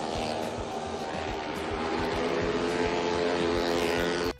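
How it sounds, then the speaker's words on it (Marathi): Motorcycles and a car circle the wall of death at a fairground show, a loud sustained engine drone with revving surges and a pulsing rhythm as they lap, stopping abruptly at the end. "एक बाईक, 2 बाईक, मग 3 बाईक। भाई बाईकसोबत कार पण चढवली यांनी"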